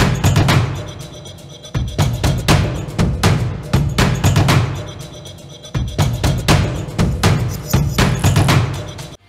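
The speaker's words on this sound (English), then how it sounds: "For the battle footage, I used these war drum sounds." Stock war drum sounds for robot battle footage: heavy booming hits in repeating rhythmic phrases, loud and close, a looping pattern of rapid thuds with brief pauses between bars.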